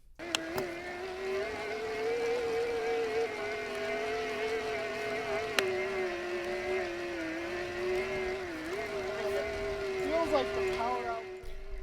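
A Brose e-bike motor runs with a steady electric whine and hum, its pitch wavering slightly as it works, heard close up with faint clicks.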